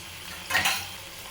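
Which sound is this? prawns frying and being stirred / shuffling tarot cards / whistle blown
prawns frying and being stirred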